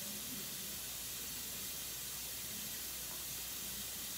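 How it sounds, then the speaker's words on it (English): Steam hisses from a radiator indoors, a steady, broad, unbroken hiss holding at an even level throughout with no pauses. "I'm sorry if you hear the steam in the background."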